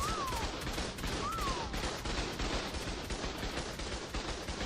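NPC turret gunfire in ARK: Survival Evolved: rapid, continuous automatic shots form a dense rattling barrage from start to finish, with two brief rising whines over it.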